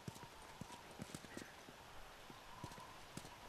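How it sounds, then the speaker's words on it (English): Hooves clip-clop at a steady walking rhythm in The Last of Us video game, faint and quiet throughout, with no talking. "could you get a horse over that fence?"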